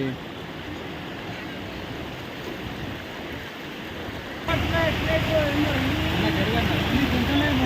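Steady broadband rush of floodwater after a day of continuous rain in Khammam, with the Munneru river overflowing; it grows louder and fuller partway through, with voices faintly audible over the flow.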